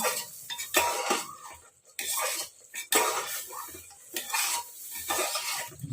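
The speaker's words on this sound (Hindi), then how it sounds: "और ये अभी मसाला भुनेगा।" Masala roasting in a pan for chole, with a spoon repeatedly scraping and clinking against the metal in uneven bursts over a soft sizzle.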